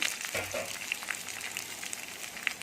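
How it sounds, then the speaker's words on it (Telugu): Onion frying in oil in a pan for a spinach stir-fry makes a soft, continuous sizzle, with occasional crackles and faint stirring scrapes. "ఉల్లిపాయ కొద్దిగా ఫ్రై అవనివ్వండి"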